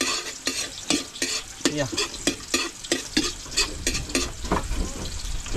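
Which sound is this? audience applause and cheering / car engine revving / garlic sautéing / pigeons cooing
garlic sautéing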